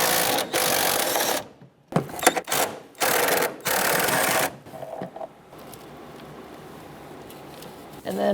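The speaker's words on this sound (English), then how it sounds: "I'm going to loosen up these two bolts back here for the battery hold down" A socket wrench with a 12mm long socket and extension loosens the battery hold-down bolts on a 2010-2013 Kia Soul. It gives loud bursts of rapid ratcheting clicks separated by short pauses, then quieter handling noises at the end.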